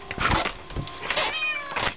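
A cat meows insistently for special food, with three close, drawn-out meows in quick succession.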